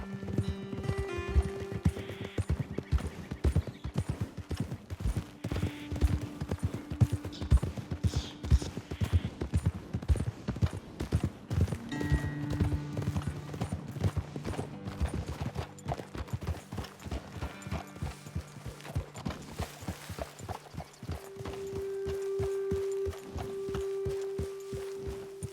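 Horses' hooves clip-clop in a steady rhythm as riders travel in Red Dead Redemption 2, close and continuous, with an occasional snort or whinny and game ambience underneath.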